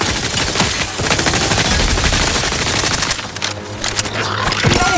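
Dense gunfire from combat in the video game The Outer Worlds 2, with loud rapid automatic bursts and overlapping shots that run continuously, close and heavy.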